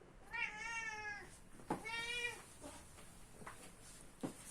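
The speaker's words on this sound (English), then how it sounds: "This one was meowing." A cat gives two clear drawn-out meows close by, followed by a few quieter short chirps and soft sounds in a quiet room.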